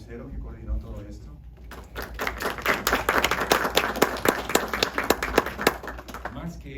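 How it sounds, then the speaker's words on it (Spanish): An audience at a talk and film screening breaks into applause after a voice, a dense, steady burst of many hands clapping that holds at full strength to the end. "Así que un gran aplauso para ella."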